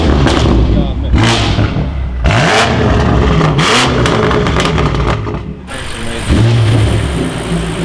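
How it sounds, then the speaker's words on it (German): A tuned BMW M8 Competition engine revs hard in loud, racy bursts, with crackles and surges close by, while people talk over it. "It sounds like a race car"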